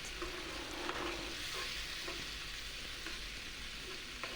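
Aloo masala with tomato paste and ground coriander sizzles steadily in the pan while being stirred, a continuous close frying hiss with a few scraping clicks and no talk.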